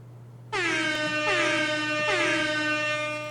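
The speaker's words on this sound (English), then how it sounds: "I'm going to click my air horn here" A loud air horn sound effect blares in three quick successive blasts through an Elgato Wave:3 microphone's SFX output, sustained and brassy, ringing out over a faint steady hum.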